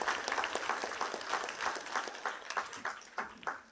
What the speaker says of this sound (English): A round of applause for the leaders.